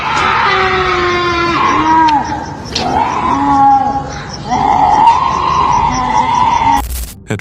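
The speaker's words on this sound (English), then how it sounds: "a blood-curdling scream ripped through the air, raw, guttural, and unlike anything they had ever heard before" A raw, guttural scream in a forest: loud, drawn-out wailing cries that rise and bend in pitch, repeated several times with short gaps, ending in a harsh noisy burst.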